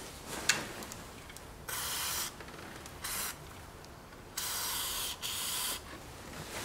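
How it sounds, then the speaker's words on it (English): Several short hissing bursts from an aerosol can of Fluid Film penetrating lubricant sprayed on a broken glow plug in a Jeep Grand Cherokee OM642 diesel, each about a second with quiet pauses between, close by and fairly soft. "I'm just gonna spray a bit of fluid film on it now."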